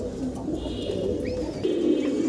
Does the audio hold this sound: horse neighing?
no